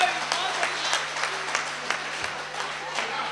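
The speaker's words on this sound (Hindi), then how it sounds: "तालियां बजाओ जरा खुल के एक बार" An audience at a live comedy show bursts into brisk applause, many hands clapping in loose rhythmic waves, with a voice speaking faintly beneath the clapping.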